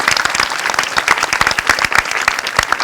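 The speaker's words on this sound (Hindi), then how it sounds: "एक बार महात्मा गांधी के लिए जोरदार तालियां।" An audience at a college event breaks into loud, dense applause, many hands clapping quickly and steadily for a few seconds, close and full with no pause.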